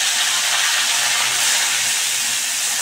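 Onion paste dropped into a hot pan gives a loud, steady sizzling hiss, close up and unbroken from start to finish, with no talking.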